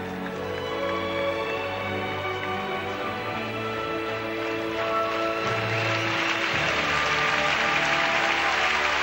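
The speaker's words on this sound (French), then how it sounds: "le public est en train d'applaudir le programme intermédiaire de Tania pour l'encourager" A rink crowd at Dortmund applauds figure skater Tania during her program, a steady dense wash of clapping that swells toward the end, heard alongside sustained music tones and no clear talk.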